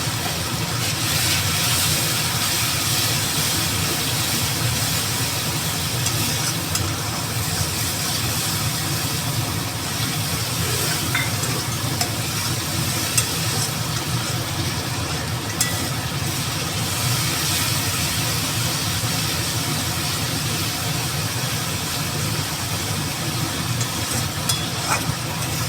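Ground cumin, turmeric, coriander and salt fry with a splash of water in a pan, giving an unbroken close sizzle that holds a loud, even roar from start to finish.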